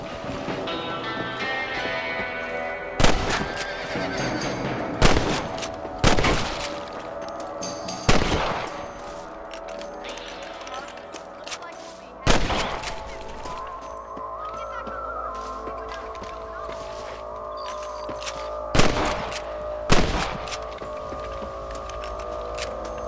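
Sharp gunshots from a Western video game ring out one at a time at irregular intervals, with about eight loud reports spaced over the stretch and a steady background of ambient outdoor game sound and music between them.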